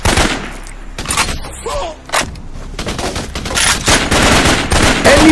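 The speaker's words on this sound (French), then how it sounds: "Ennemi, on me tire dessus !" Enemy gunfire in the jungle combat game Raven Squad: Operation Hidden Dagger, with loud, dense automatic bursts and overlapping shots rattling almost continuously, close and heavy, with some voices briefly.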